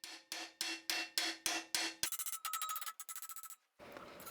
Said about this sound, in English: I hammer once on each face